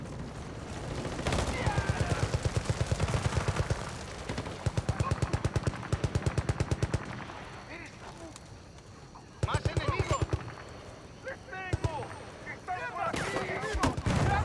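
Gunfire in the Xbox 360 shooter Battlefield Bad Company 2: bursts of rapid automatic fire and heavy single blasts come in clusters over several seconds, loud and close, with someone talking between volleys.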